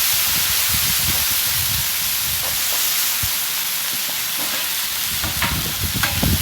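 Steady, loud sizzling and hissing of steam on a hot flat top griddle, with scraping and clatter underneath throughout.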